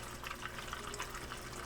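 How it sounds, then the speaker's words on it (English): Water runs from a kitchen sink and drains into a backed-up laundry tub clogged with grease, a steady, faint, broad rushing hiss that continues without a break and with no speech. "You can hear the water running"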